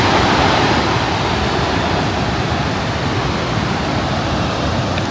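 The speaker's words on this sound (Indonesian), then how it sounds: "Di belakangku Victoria Falls" Victoria Falls (Mosi-oa-Tunya) waterfall in Zambia, a steady, loud, broadband roar of falling water that holds evenly throughout with no voices.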